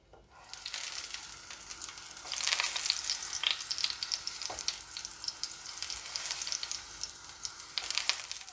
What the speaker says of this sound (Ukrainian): І обсмажити на невеликій кількості олії.